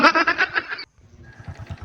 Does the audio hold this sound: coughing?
no